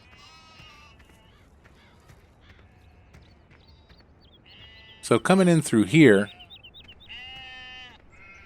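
Sheep bleat loudly in a pasture in a short burst of several overlapping calls near the middle, with a person speaking before and after amid quiet outdoor background.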